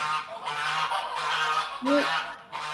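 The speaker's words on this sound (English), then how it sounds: "The noisy geese are awake." Loud, honking calls from a group of geese, overlapping and continuous, with a sharper burst of honks near the end.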